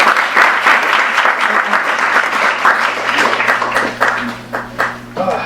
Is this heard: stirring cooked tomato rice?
no